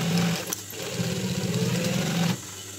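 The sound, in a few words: sewing machine stitching a hat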